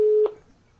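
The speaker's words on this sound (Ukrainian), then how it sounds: "Хтось до нас дзвонить." A steady electronic telephone tone sounds for a quarter second, then stops abruptly with a brief click, leaving near silence. The tone is close and fairly loud.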